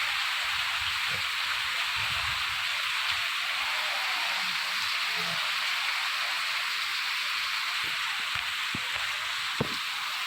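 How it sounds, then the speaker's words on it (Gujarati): Heavy overnight rain roars steadily over a flooded farm field, a thick continuous hiss, with a few faint knocks and low rumbles underneath. "સવારના પોરમાં વરસાદ છે આખી રાત ચાલુ જ ગયો વરસાદ"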